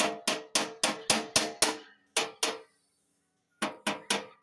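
A brass hammer strikes a nut on a Honda snowblower, a quick run of seven sharp metallic blows, then two more, a pause and three final hits, close and ringing with no talk.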